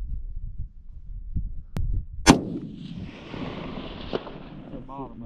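A single sharp rifle report from a 6.5 Creedmoor cracks loudly outdoors midway through, with a quick echoing tail and a fainter bang afterward, among low muffled rumbles and handling noise.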